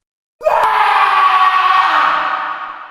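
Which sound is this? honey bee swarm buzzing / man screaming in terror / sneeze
man screaming in terror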